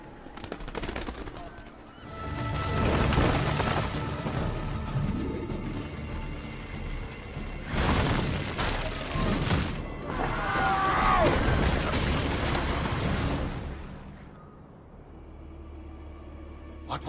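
Rapid crackling bangs, like firecrackers or gunfire, echo in several loud clusters in Renaissance Italy in Assassin's Creed, with a quieter stretch where voices speak briefly.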